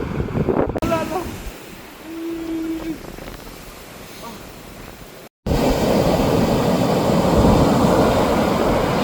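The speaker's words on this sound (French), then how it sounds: "La taille des vagues, c'est impressionnant." Broad rushing surf of large ocean waves on a Moroccan beach, faint at first, then a louder, steady roar of breaking water after a short gap.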